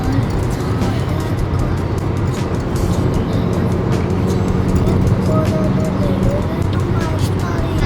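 Steady in-car road rumble from a car cruising along the Agra expressway in India, a constant broadband engine and tyre drone throughout with faint tonal whines and no break.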